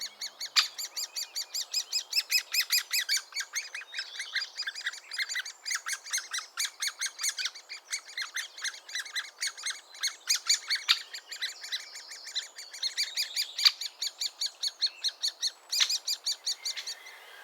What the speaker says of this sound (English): Great spotted woodpeckers.